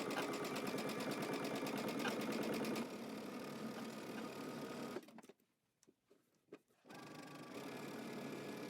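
A sewing machine stitches across the front of a top made from a Simplicity pattern, with a fast steady needle rhythm close by. It pauses for about two seconds, then starts up again.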